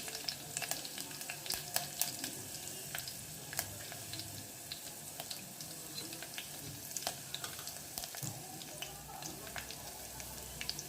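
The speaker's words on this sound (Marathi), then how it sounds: "आता राई जिरं टाकून घेते जिरं राही मिरच्या घालून घेते" Mustard seeds, cumin and chillies sizzle and crackle in hot oil, a steady close frying hiss with sharp scattered pops throughout, no voices.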